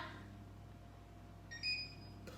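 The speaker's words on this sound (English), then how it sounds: "I can hear my oven bleeping behind me" A faint oven timer beeping briefly in the background of a quiet kitchen, a couple of short high tones.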